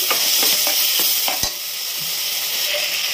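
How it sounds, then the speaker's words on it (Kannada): Tomato frying in a pan for pulao, with a steady close sizzle and a series of scraping stirs and taps of a spatula through the first half, then an even sizzle alone. "ಟೊಮೆಟೊ ಕೂಡ ಸ್ವಲ್ಪ ಫ್ರೈ ಮಾಡ್ತೀನಿ"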